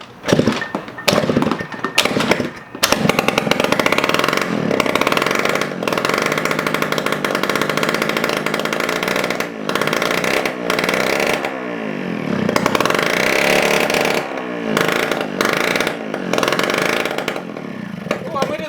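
An old restomod Honda scooter engine sputters to life and revs, loud and rough with uneven bursts and brief dropouts, while a person talks over it.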